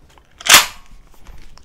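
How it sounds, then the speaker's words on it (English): A single sharp metallic clack as shells are released from a Mossberg 930 SPX semi-automatic shotgun during unloading, close and brief, followed by faint handling noise. "all the shells should come shooting out"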